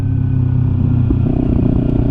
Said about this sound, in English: Josh's bike, in both my and Josh's opinion, is freaking incredible with this exhaust